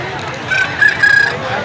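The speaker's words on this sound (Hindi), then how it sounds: "यहाँ पे मुर्गे हैं, सील और देसी।" A rooster crows close by among a yard of chickens and ducks in Pakistan, one loud drawn-out cock-a-doodle-doo call rising and holding over faint background noise.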